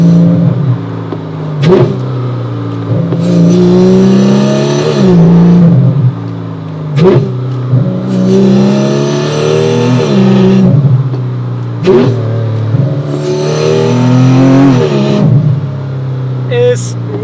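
A Porsche GT3 Cayman with a PDK dual-clutch gearbox drives on a wet track, its engine loud and close. Revs rise and fall repeatedly while a voice talks over the engine noise.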